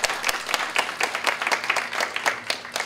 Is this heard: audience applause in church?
yes